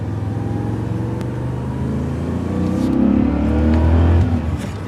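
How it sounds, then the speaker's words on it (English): BMW E39 M5 engine revving and accelerating, rising in pitch and loudness as the car pulls hard, heard from inside with a steady growl. "Let's give it a little gas, see what we hear."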